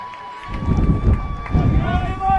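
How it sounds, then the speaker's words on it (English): A crowd roars after a successful corner kick at a U16 boys youth soccer match, in surging bursts of cheering mixed with a commentator talking. "as you can hear by the roar of the crowd, that was a successful corner kick"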